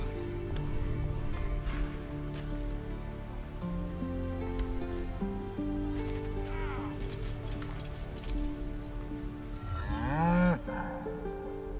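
Cow mooing in the video game Baldur's Gate 3, several drawn-out moos layered over game music and ambience, with a louder, rising call near the end.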